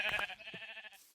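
A sheep bleats in the Minecraft video game, one short, clear wavering bleat heard up close and alone.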